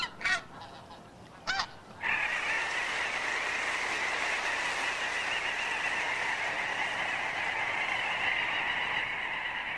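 Geese honk from a short distance, a few sharp calls at first, and then a massed flock keeps up a dense, continuous chorus of honking that runs on steadily.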